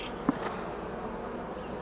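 A swarming honey bee colony hums in a continuous, even drone, with one brief close buzz standing out just after the start.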